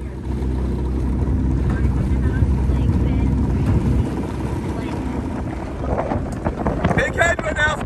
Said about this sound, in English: Big headwind now, stay strong.